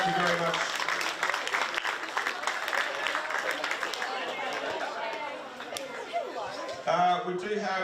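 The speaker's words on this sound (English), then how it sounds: "another round of applause for all of our match officials right through the tournament" Applause from a rugby crowd for the match officials at an Australian Rugby Shield men's tournament game, dense clapping mixed with crowd chatter and some voices, fading slightly before a brief louder burst near the end.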